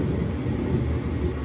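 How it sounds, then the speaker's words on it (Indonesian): Two stainless steel passenger trains meet at Kutoarjo station, giving a steady, loud, low rumble with broad rolling noise and no voices. "Ini 2 kereta stainless steel bertemu di stasiun Kutoarjo"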